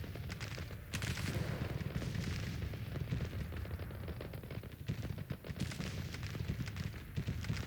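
Gunfire and cannon artillery roar through a Civil War battle in Grand Tactician: The Civil War, with heavy overlapping booms and crackling volleys that rumble continuously, loud but distant.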